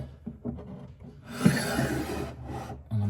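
A wooden tool tray in a plywood tool chest rasps along its wooden runners in a short dry slide, close and fairly quiet, with faint scrapes before and after.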